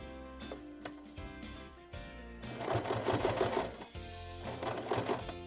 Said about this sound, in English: And now I'm just going to sew right off it all the way to the end.